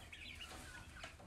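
Chickens cluck softly at a farm waterer after a bent hose is fixed, the low, steady clucking close by with no talk.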